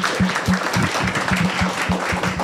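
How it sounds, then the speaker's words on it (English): A small audience at a panel talk on fake news gives a light, brief round of applause, a sparse cluster of claps in quick, uneven rhythm, close and moderately loud. "No need for a clap."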